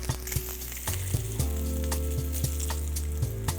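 Fat cap of a strip loin steak searing in a hot pan, a steady close sizzle with intermittent pops and crackles, no talking.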